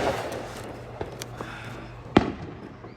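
Fireworks on the Fourth of July, watched from a balcony: two or three distant pops and bangs, the sharpest near the end, over a steady low hum of background noise.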